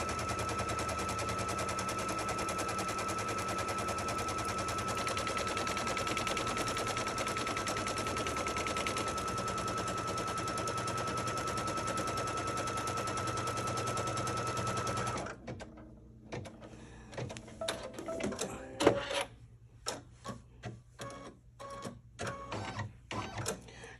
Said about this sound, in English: I'm going to start stitching my batting line down, batting placement line.